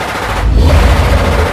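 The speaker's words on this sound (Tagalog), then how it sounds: "Pinaulanan ng matanda gamit ang kanilang dala na mahabang baril na isang machine gun" A burst of rapid machine gun fire, loud and sustained, a dense rattling roar from start to finish.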